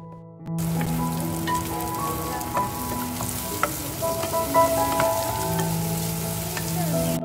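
Chicken frying in a pan while Pakistani-style rice cooks alongside, a steady sizzle with stirring and utensil scrapes running close and continuous throughout.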